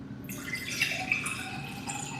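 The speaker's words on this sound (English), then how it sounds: "I'm gonna go to pouring water." A pouring water sound effect gives a steady, continuous liquid rush with faint splashy detail, holding at an even moderate level throughout.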